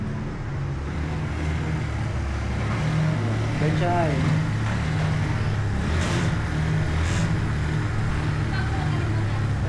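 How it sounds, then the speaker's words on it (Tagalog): A tricycle engine runs steadily close by, its low motor rumble continuous throughout with a brief rise in revs midway, while people talk over it. "Pinaantara na ni Betchay yung tricycle."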